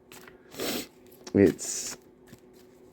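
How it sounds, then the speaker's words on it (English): Playing cards are shuffled by hand in a few short rustling bursts, close and fairly quiet, with a brief voice in between. "We just shuffle these up, move them around, try not to drop any."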